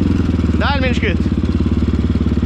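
A Honda CG motorcycle engine runs on a steep dirt trail. It gives a close, steady, throbbing low rumble throughout, and a short voice cuts in briefly near the start.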